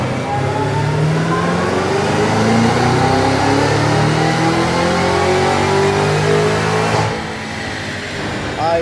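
A Cadillac CT5-V Blackwing engine with a JLT intake revs hard on a dyno, a loud, close, sustained climbing roar through the gears for about seven seconds before easing off.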